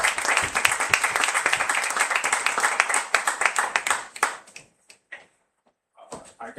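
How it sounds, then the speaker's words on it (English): Audience applause for Guzmán at a poetry event, a moderate round of clapping that sustains for about four seconds, then thins to scattered claps and stops, with a few last claps near the end. "Round of applause for Guzmán."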